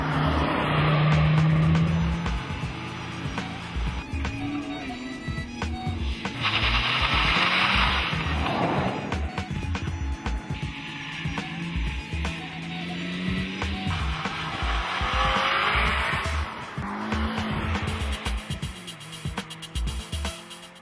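Hot hatchbacks are driven hard around a race circuit, with engines revving up and down, repeated passes and brief tyre squeal. Engine noise is loud and continuous with some wind buffeting and no talk.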